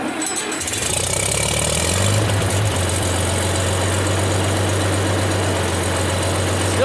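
An IH Farmall 706 tractor engine catches and settles into a loud, steady idle, a low chugging rumble with a constant throb that carries on without pause.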